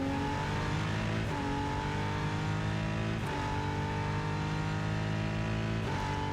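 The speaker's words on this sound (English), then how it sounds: "If I'm honest, I'm not liking the sound of the car" Race car engine in the Rennsport racing video game holding a steady high drone with harmonic whine, briefly dipping and rising at gear changes around every few seconds, loud and continuous.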